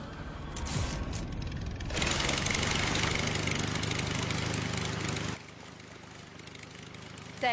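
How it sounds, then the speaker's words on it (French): A motor starts up and runs steadily and loudly for several seconds with a rough, buzzing drone, then cuts down abruptly to a quieter hum near the end. "Le bruit du moteur va les attirer"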